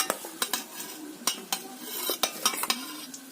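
Half-fried pork tipped into a hot pan and stirred: close metallic scrapes and knocks of a spoon against the pan in an uneven rhythm over a light sizzle.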